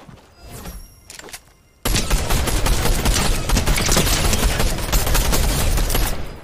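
Rapid Fortnite gunfire erupts after a couple of quieter seconds, a loud continuous burst of automatic shots that keeps going to the end.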